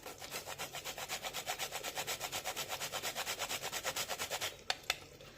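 Whole nutmeg is grated over a pan of coconut rice sweetened with jaggery. Quick, even scraping strokes repeat closely and rhythmically for about four seconds, ending with two sharp taps.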